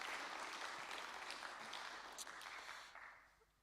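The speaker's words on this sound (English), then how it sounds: "So big round of applause for them." Audience applause at a New Zealand young piper light music competition, a dense steady clapping that holds strong and then tapers off toward the end.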